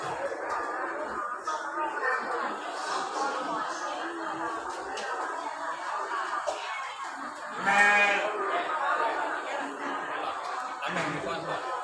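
A sheep bleats at a zoo in Ayutthaya, Thailand, a short bleat near the middle under steady ambient chatter from visitors talking nearby.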